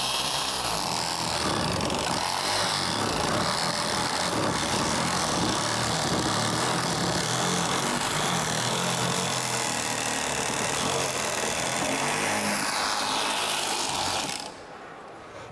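A power saw whines and grinds continuously for a long stretch, loud and steady, then stops abruptly near the end, during a stage magic trick of sawing a person in half.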